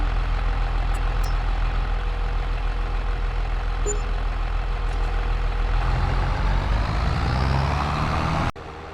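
A heavy tractor in a farming video game lumbers toward a field, its loud low diesel drone rumbling steadily close by, the engine note shifting near the end before the sound cuts abruptly.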